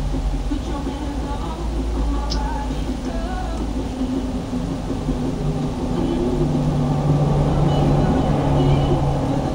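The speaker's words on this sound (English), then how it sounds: "So many big trucks come by here." Big trucks roll past on a nearby road, producing a continuous, heavy low rumble that holds steady and swells slightly toward the end, with faint background sounds mixed in.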